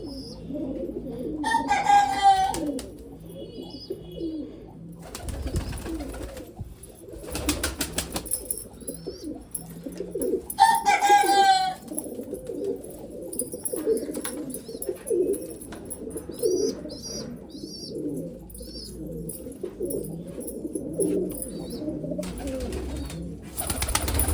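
Sialkoti pigeons coo in repeated soft bursts close by, with a steady low murmur of more cooing and faint chirps behind.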